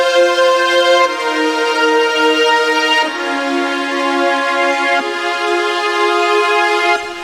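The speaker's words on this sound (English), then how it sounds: "So first I have this strings attached preset." PolyScape Nova synth playing its Strings Attached preset: a loud, bright sustained string-like pad with rich harmonics, shifting chords roughly every one to two seconds, heard alone without talking.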